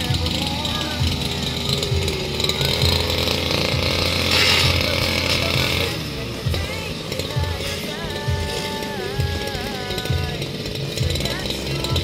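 A brush cutter mows grass and weeds near an iron-littered site, its two-stroke engine whining loudly, dipping and revving as it works, with a person speaking over the noise.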